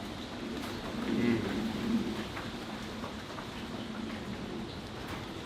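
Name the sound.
rain and wind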